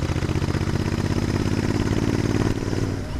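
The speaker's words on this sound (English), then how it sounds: "Lovely engine they've put in this." Royal Enfield Interceptor 650 parallel-twin engine running steadily in sixth gear at around 30 mph, a loud, close, continuous throbbing drone with even pulsing and no talk.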